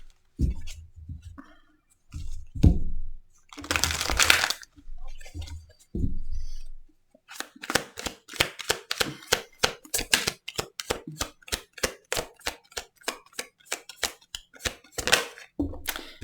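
Tarot cards are handled for a reading: early rustling and sliding bursts, then a long run of rapid, regular crisp riffle-like snaps, close and fairly loud.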